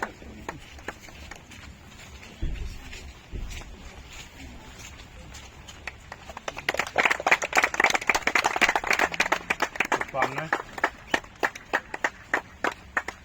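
An audience claps for a promoted security guard at an Independence Day 2024 celebration in Jaipur, the applause starting sparse and swelling into dense, loud clapping before thinning into scattered claps.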